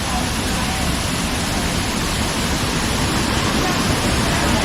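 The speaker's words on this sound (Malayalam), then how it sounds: "വെള്ളച്ചാട്ടം തന്നെയാണ്." A waterfall at Vattavada near Munnar roars as a dense, steady rush of falling water, loud and continuous from nearby, with no pauses.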